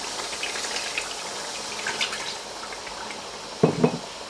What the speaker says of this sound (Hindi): अच्छे से मिक्स कर लेने के बाद इसमें आप डालेंगे 1 कप जितना पानी।